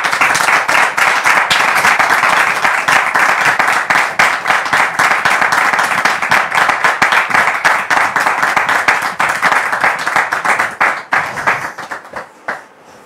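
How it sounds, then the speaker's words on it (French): Loud audience applause fills a room, a dense rapid patter of many hands clapping close by that holds steady for about ten seconds, then thins into scattered final claps and fades out. "sous vos applaudissements, le frère Mathieu"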